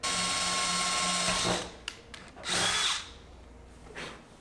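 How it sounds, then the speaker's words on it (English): A power drill whirs loudly for over a second, then stops; after a pause it runs again in two shorter bursts, close and alone, drilling holes with a small bit to fit a TRD wing on a Camry XSE. "I'm going to start doing the holes with the smallest drill bit"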